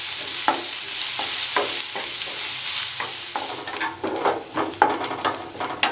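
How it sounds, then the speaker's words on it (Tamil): Chopped onions sauté in a pan for a restaurant-style mushroom gravy: a loud continuous sizzle with repeated scraping stirs of a spatula, growing busier toward the end, with no voices. "நம்ம கட் பண்ணி வச்சுருக்கிற வெங்காயத்தை அதில் சேர்த்துக்கலாம். இனி நல்லா வதங்கட்டும்."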